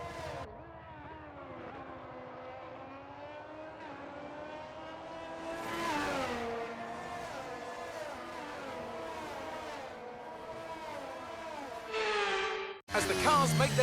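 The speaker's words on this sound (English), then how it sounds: "As the cars make their way back to the starting grid to form up and get ready for lights out" Formula One race cars in the F1 23 video game, running a formation lap back to the starting grid in dry conditions at Australia, engines droning and shifting pitch continuously with a sharp rev burst near the end, under steady commentary.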